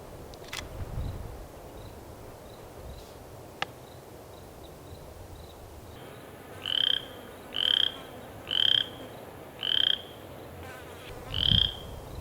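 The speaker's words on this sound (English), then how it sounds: "Sat there for several minutes trying to find a frog" A frog croaks from tall grass at Dogtown Campground near Williams, Arizona: five evenly spaced, loud, clear calls follow a quieter stretch of insect buzz and rustling.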